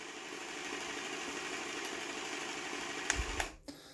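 A heavy-duty full-alloy 1:14 Huina 580 RC excavator plays its simulated engine sound, a steady buzzing drone with a few clicks and a sudden cutoff near the end.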